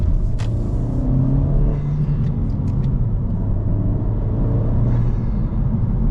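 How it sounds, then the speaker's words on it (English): A 250 hp Honda Civic Si engine running steadily from inside the cabin, a loud low rumble with a faint rapid ticking from the fuel injectors and no talk. "You know how loud the fuel injectors are on this car?"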